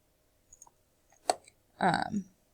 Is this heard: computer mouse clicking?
yes